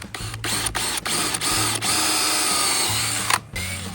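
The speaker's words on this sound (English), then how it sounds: "we're drilling the other side" A power drill whirs loudly and close up in several sustained bursts, stopping and restarting briefly between runs.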